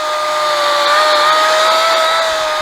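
A Makita electric chainsaw cuts out a tree stump with a steady, loud, continuous whine that holds an even pitch throughout, with no talk over it.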